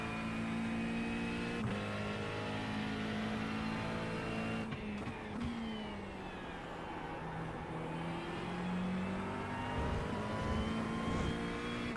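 GT3 race car engine in the iRacing sim, a continuous loud engine note with rising and falling revs, gear-shift breaks and a tire squeal near the end, with no voices.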